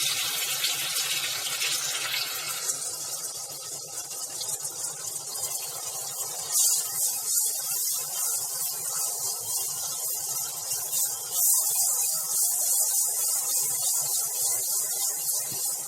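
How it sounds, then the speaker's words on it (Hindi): Onions sizzle after being added to about two tablespoons of hot oil in a pan. A steady, close, hissing crackle continues throughout with small bursts. "ये तेल गरम हो गया, 2 टेबलस्पून जितना तेल है, इसमें प्याज डाल रही हूँ मैं पहले"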